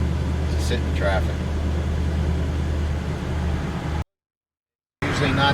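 Steady road traffic rumble heard from inside a 1965 Chevy panel van in Melbourne, Florida, a continuous low drone with a brief dropout near the end.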